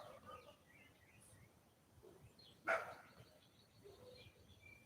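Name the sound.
dog barking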